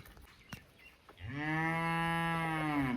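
Dairy cattle offered for sale, some of them pregnant, on a farm where milking is done: one long, loud, sustained moo rises after a second of quiet background and holds steady to the end.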